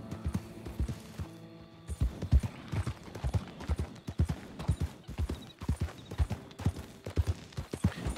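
Horse hooves clip-clop steadily at a walking pace in Red Dead Redemption 2, with a brief gap early on before the clopping resumes.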